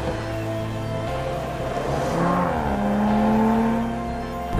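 An Audi RS 5 Coupé's engine hums at close range, then rises in a smooth rev that climbs in pitch and loudness before holding steady.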